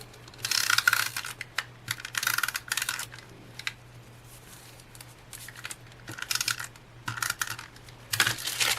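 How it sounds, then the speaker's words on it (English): Tape runner laying adhesive on paper pages over wax paper, heard as several bursts of close crackly, ticking clicks separated by quieter pauses, with no talking. "So let me grab my tape runner and my old beat up piece of wax paper."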